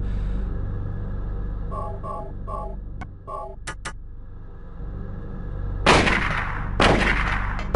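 Synthetic gunshots from the PS1 game Silent Hill ring out in sharp bursts over a steady musical hum, with a couple of louder blasts near the end.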